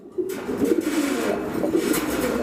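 Rajshahi High Flyer fancy pigeons cooing close by, a soft, repeated throaty burble that rises and falls in overlapping calls for a couple of seconds.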